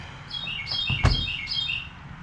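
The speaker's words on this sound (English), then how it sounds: "It's a little female cardinal." A small female cardinal chirps inside a home garage, a few short bright tweets repeating across the moment, fairly close and clear over low background noise.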